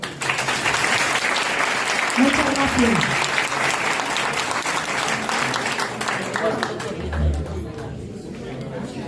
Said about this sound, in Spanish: Y así que un aplauso para todos ellos.